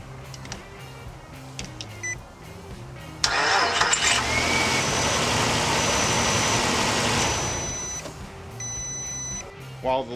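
A car engine cranks and catches after a jump start from a Jumpsmart pack, then roars up and settles into a steady idle nearby before easing off.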